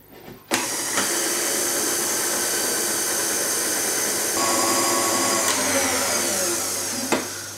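An electric mixer whisks egg whites into royal icing for a gingerbread sleigh. It runs with a loud, continuous whirring whine, with a few clicks and small shifts in pitch as the beaters move through the bowl.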